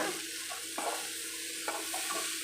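Brinjal fries in oil in a pan, a faint, soft, steady sizzle broken by a few sharp clicks of a utensil against the pan, with no voices.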